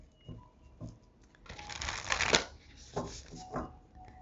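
A deck of tarot-style cards being shuffled by hand during a spiritual channeling session, with a few soft riffles at first, then a longer, louder burst of flicking and sliding cards, followed by quieter taps.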